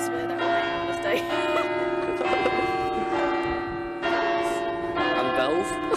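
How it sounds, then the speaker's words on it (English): Church bells ring steadily with sustained metallic tones and overlapping strikes, moderately loud and continuous, with no talk over them. "A few bells thrown in, yeah."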